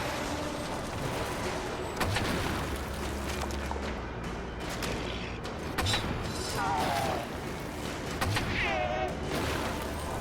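Teapot cannon blasts from Alice: Madness Returns, a series of loud booming shots with sharp transients amid busy game effects and a few whistling tones, continuing steadily over about ten seconds.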